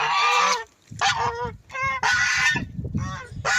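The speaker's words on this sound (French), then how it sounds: "Les autres guinées. Que l'on va lâcher." Guinea fowl being let out, their loud, harsh honking calls coming in several close bursts with short pauses between, over low scuffling and farmyard noise.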